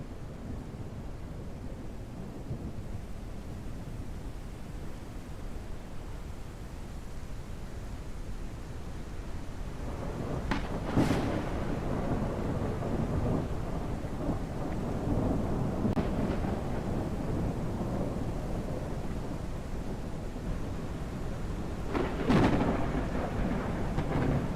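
Thunderstorm with steady rain hissing throughout and low rolling thunder building in the background, punctuated by a few sharper, louder thunder cracks at intervals.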